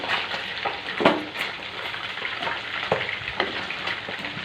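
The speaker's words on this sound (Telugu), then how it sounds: "మసాలా పొడి వేసుకొని బాగా కలిపేయండి" Mutton curry sizzles and fries in a pan after masala powder is added, with steady close crackling and a few louder scraping stirs, no talking.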